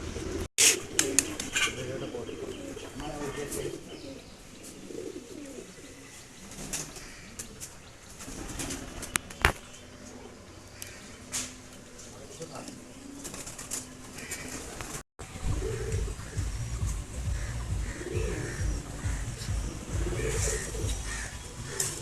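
Domestic pigeons coo repeatedly at a breeder's home loft, with wing flaps and shuffling nearby, the soft rolling calls continuing throughout amid background rustle.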